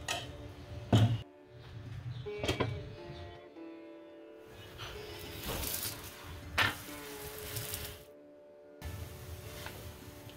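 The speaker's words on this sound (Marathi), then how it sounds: "या बॅटरचे आपण जाडसर धिरडे करून घेणार आहोत." A thick chickpea-flour batter pancake fries in a pan with a soft, steady sizzle, broken by a few clinks and scrapes of a spoon or spatula against the pan.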